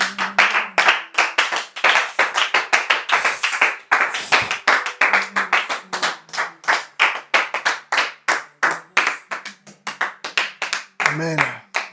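A church congregation claps in a steady, rhythmic beat while acclaiming the Lord, loud and close, with voices singing and shouting over the hands throughout.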